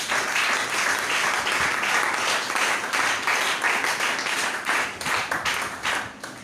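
A church congregation breaks into sustained applause, a dense wash of many hands clapping at full strength for several seconds before thinning into scattered individual claps near the end.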